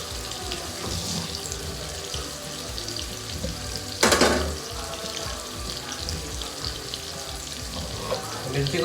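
Paneer fries in a pan over a high flame, giving a steady hissing sizzle with one sharp burst of crackling partway through.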